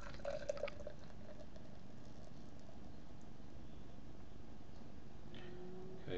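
Coopers Sparkling Ale, rolled to stir its sediment, being poured into a slightly chilled standard pint glass: a faint, continuous fizzing wash of liquid and foam lasting several seconds, with no voice.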